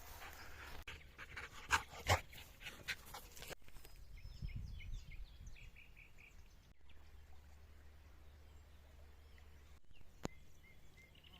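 Dogs heard outdoors early in the morning, with short barks and excited noises near the start followed by quieter breathing sounds, faint, amid birdsong and background ambience.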